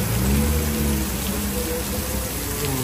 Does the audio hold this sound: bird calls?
no